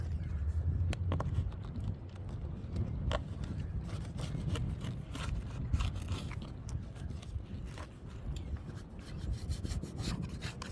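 A paint scraper rubbing and scraping old paint in a boat's forward cabin, a continuous close, quiet rasping scrape with irregular strokes throughout.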